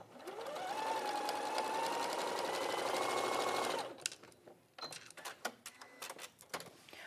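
A sewing machine stitches continuously at a steady, fast hum for several seconds, then stops, followed by scattered clicks and handling sounds nearby.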